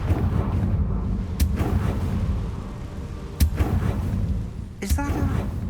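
Fiery Confringo spell blasts in the Hogwarts Legacy video game: three sharp booming explosions spaced a couple of seconds apart, each standing out over a steady rumbling game backdrop.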